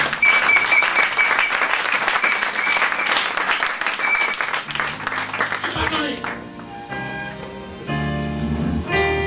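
Church congregation applauding, a dense loud wash of clapping for about six seconds that then gives way to music and voices.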